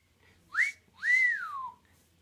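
A pet mynah bird gives two clear whistles up close, a short rising note followed by a longer sweeping note that rises and then falls, against near silence.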